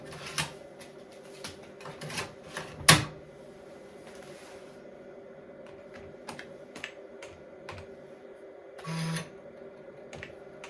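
Keys tapped on an old computer keyboard, scattered irregular clicks with one sharp loud strike and a short mechanical whir near the end, in a quiet room.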